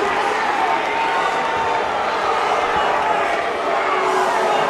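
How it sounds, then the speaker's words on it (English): A packed high school basketball gym crowd at a Montgomery vs Newman game roars in a loud, sustained, agitated din, with an announcer's voice running over the noise. "the Newman crowd is furious"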